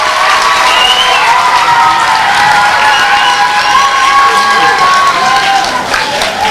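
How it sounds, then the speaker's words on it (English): Fifth grade students at a school moving-up ceremony give their parents a round of applause, with loud sustained clapping mixed with children's cheering and shouting voices throughout. "5th grade class, please thank your parents right now with a round of applause."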